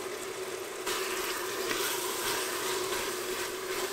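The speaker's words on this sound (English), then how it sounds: "we're going to fry the onions until they're a nice golden brown" Chopped onions sizzle in a pan with garam masala and bay leaves as a steady, close frying hiss, growing a little louder after the first second and continuing evenly throughout.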